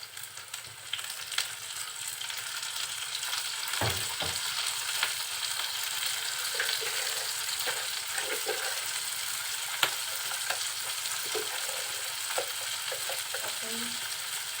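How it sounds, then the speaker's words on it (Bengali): Small shrimp frying in oil with leafy greens make a continuous sizzling crackle with occasional scrapes and clinks from stirring, close and moderately loud, with nobody speaking. "মাছটা তেলের মধ্যে যখন একটু নরম হবে তখন আমি এখন দিয়ে দিব চিংড়ি মাছ"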